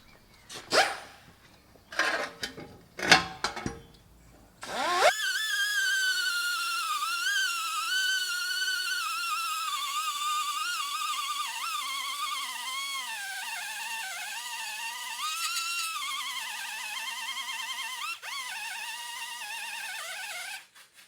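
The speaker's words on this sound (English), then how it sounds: "we'll go back in with the die grinder and grind the rest away" Die grinder grinding away a leftover metal lip on a VW T5 hub, a steady high-pitched whine that wavers as it bites, following a few short knocks and clatters at the start, close and loud.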